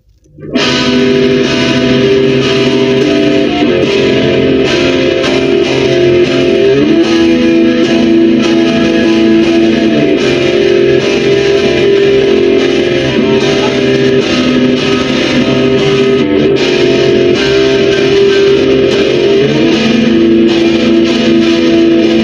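An electric guitar with a neck pickup played through a Boss Blues Driver BD-2 overdrive pedal, loud and continuous with sustained distorted chords and notes ringing for over twenty seconds without talk.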